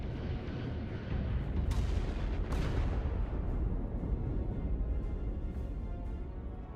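Spaceship weapons fire in repeated heavy booming blasts, a dense rumbling barrage with a few sharper cracks, continuous and loud throughout.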